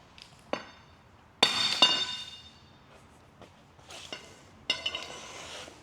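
Several sharp metallic strikes from a crowbar hitting a product in a durability test, with ringing, clinking tails, spaced irregularly over a few seconds against a quiet background.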